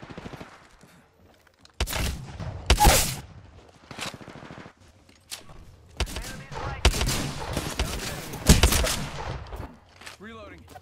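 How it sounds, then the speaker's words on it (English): Video game gunfire bursts out in rapid fusillades, loud and near, separated by quieter gaps with mechanical clicks and in-game voice callouts. "Shots fired."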